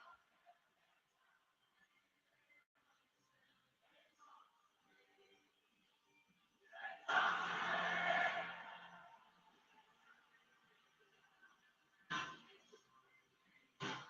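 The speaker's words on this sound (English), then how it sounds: "Crowd is loud for the Viper." An arena crowd at a WWE WrestleMania event bursts into a loud roar for Randy Orton, the Viper, swelling for about two seconds before settling back into a quieter murmur, with brief shorter surges afterward.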